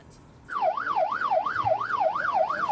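An ambulance siren wails in a rapid, regular rising-and-falling sweep, starting abruptly after a moment of quiet and continuing loud and close, with faint low traffic rumble beneath.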